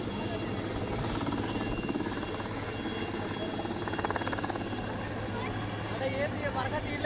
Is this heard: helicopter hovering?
yes